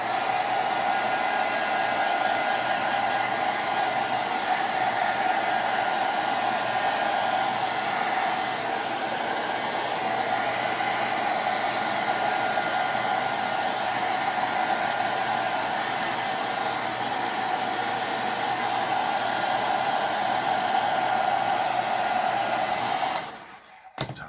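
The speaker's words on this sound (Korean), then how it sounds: "헤어 드라이기를 준비를 해서 물감을 빠르게 말릴 수가 있겠죠" A hair dryer blows steadily to dry paint on paper cups, its loud, even whine and airy rush continuing unbroken for over twenty seconds before it switches off with a brief click at the end.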